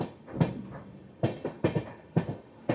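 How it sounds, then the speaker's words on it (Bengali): An express train pulls out of Malda Town station, giving rhythmic clattering thumps from the carriages as it rolls, several distinct knocks spaced through the moment with steady rumble between. "বন্ধুরা আমরা মালদা টাউন ছেড়ে যাচ্ছি"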